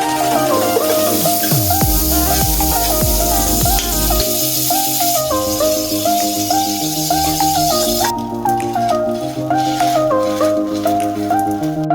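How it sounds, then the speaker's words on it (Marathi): Pav bread rolls frying in a pan give a steady hissing sizzle, partly masked by loud background music, and the sizzle drops away toward the end. "भाजी होईपर्यंत आपण पाव फ्राय करून घेऊया"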